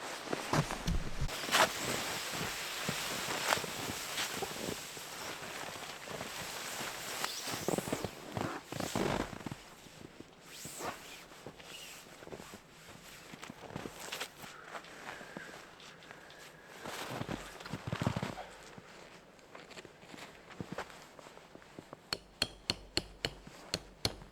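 Frozen trees in a winter forest at -30°C let out sharp, scattered cracks and pops, some close and loud, others faint, with rustling and footstep-like crunches in the cold stillness.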